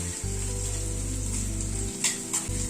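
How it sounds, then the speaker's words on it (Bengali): Chopped ginger fries lightly in a hot pan, a steady close sizzle throughout with a low hum underneath and a couple of brief clinks near the end. "আদাটাকে হালকা করে ফ্রাই করে নেব।"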